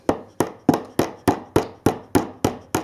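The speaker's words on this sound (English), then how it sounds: "just tap those into place very gently, so that you don't damage the rail joiners" Small hammer tapping rail joiners onto model railway track with light, sharp, evenly spaced taps, about ten in three seconds, close and clear with nothing else heard.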